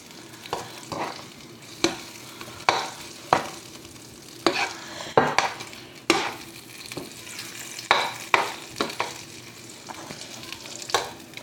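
Sausages cooking in a pan, a steady sizzle punctuated by frequent sharp scrapes and clatters as they are turned, close and fairly loud, with no talking.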